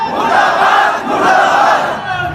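Protest crowd in Khairagarh chanting a slogan against Bhupesh Baghel at a tribal society rally demanding 32 percent reservation, a loud massed chorus of voices rising and falling in two swells.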